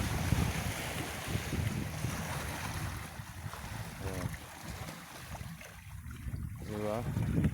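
Sea waves and gusting wind at a shoreline, a rough continuous rush of surf with heavy wind buffeting on the microphone, swelling and easing over several seconds.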